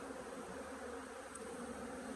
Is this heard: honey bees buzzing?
yes